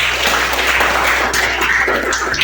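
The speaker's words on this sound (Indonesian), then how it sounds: "Oke, tepuk tangan ya." A school class applauding together in a classroom, a steady, dense wash of clapping that fills the whole short stretch, close and loud with no pauses.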